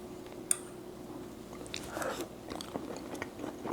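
Someone chewing raw oysters up close, with soft wet squishing bites and light crunches over a faint background hum, and no talk.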